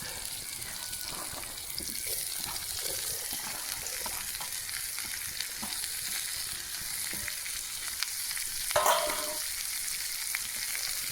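Chopped onions and spring onion stalks fry in a pan with a soft, continuous sizzle, faint and steady, marked by one brief louder stir near the end.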